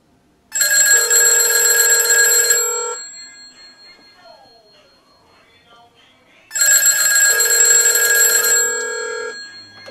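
A loud landline telephone bell rings in two long bursts separated by a few seconds of near silence, bright and metallic, heard close up, while a Garfield novelty phone also rings.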